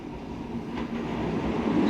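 A tram passes on a street in Kumamoto, Japan, its rumble rising steadily from a low drone to a louder, closer roll over about two seconds, with no voices.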